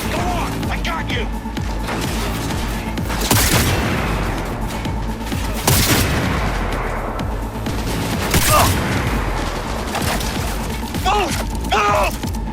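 Rapid gunfire bursts and impacts in the video game Cyberpunk 2077, loud and dense throughout, with shouted voices over the combat.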